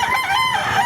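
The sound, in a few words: rooster crowing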